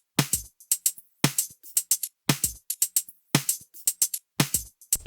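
Tech house topper percussion loop of crisp, bright claps and short clicky hits repeating in a tight syncopated pattern, dry and close, each bar sounding the same across several cycles.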